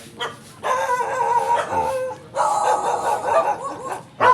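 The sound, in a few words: pet dog barking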